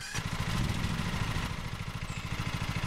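A virtual lawn mower engine runs steadily at low revs in the Lawn Mowing Simulator game, a close, continuous rumbling idle with a faint clatter and no talking.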